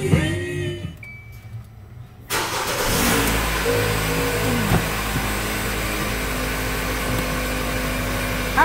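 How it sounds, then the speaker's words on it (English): A car engine starts abruptly after a quiet interior, then settles into a steady idle with a low hum and faint revs, close by and running alone with no talk as it warms up on a cold day. "I could warm up my car right quick."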